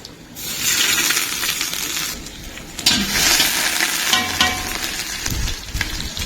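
Whole spices with panch phoron, dried red chillies, bay leaves and grated ginger crackle in hot oil, a bright continuous hiss with a few sharp clinks and scrapes, close up with no talking.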